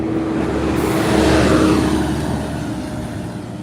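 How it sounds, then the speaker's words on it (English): A bus drives past on a morning road during a dog walk, its engine swelling loud and close before fading away, a steady broadband rush with no talk. "Here comes one of the buses."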